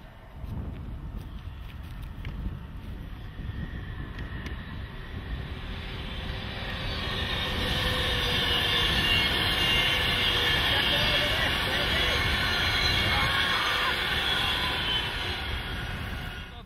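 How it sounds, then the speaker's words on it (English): A train rumbling past with a steady, broad roar that swells louder midway and holds, no voices over it. "Train!"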